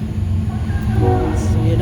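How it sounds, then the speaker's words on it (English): A train passing close by on the rails during a street protest in Washington, DC, a loud continuous low rumble and rolling rattle with no clear pauses. "That noise is a train passing."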